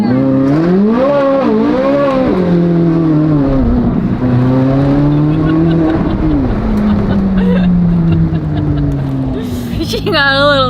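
A Chevrolet Corvette Z06 accelerates hard with traction control off, its engine note climbing and shifting through several loud sweeping pulls, close and continuous, with a brief burst of noise near the end.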